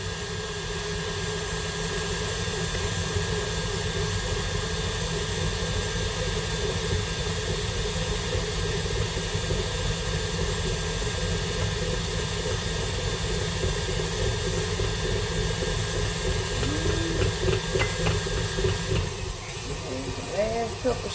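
A stand mixer runs continuously, beating cake batter as sugar is added, a steady whirring drone lasting throughout with a person speaking over it.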